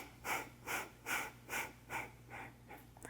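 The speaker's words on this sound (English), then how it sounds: "take a deep inhale and exhale" Slow, steady yoga breathing, seven deep breaths in a regular rhythm with airy, slightly snorting exhales close to the microphone, fading a little toward the end, with no talking.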